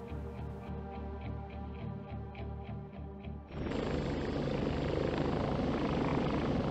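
Helicopter in the Warplanes 3 Air Corp VR game, rotor chopping in a fast steady beat, then a louder, denser engine roar takes over midway, close and loud with no voices.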